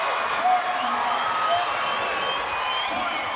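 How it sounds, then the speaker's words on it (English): An indoor volleyball crowd at a LOVB Nebraska at LOVB Austin match cheers and whoops with a sustained, fairly loud roar, with a whistle-like tone and voices mixed in. "Crowd's loving it."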